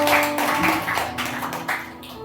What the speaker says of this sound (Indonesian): Tepuk tangan dulu untuk Agus.